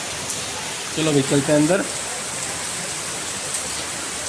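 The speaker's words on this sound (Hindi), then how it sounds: "बाहर देख रहा है बहुत तेज़ बारिश हो रही है" Heavy rain with big drops pours steadily outside, a dense, loud hiss filling the whole clip, while someone speaks briefly over it.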